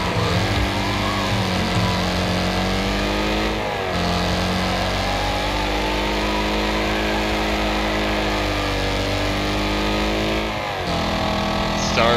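Race car engines in the Wreckfest oval loop rumble race, a steady loud roar with shifting revs as several cars drive and jostle, continuous throughout with brief dips in pitch.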